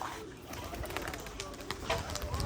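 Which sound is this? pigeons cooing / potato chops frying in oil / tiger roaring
pigeons cooing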